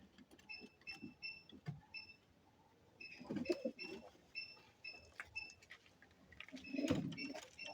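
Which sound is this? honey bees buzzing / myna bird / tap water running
myna bird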